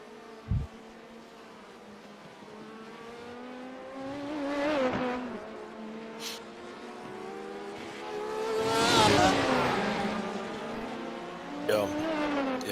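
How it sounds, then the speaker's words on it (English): LMP1, LMP2 and GTE race cars in a racing video game scream down the Mulsanne straight at Le Mans, engine notes rising and falling as cars pass one after another, with a voice talking over the top. "I'm sitting here watching LMP 1 passing LMP 2, who is passing a GTE down Mulsanne"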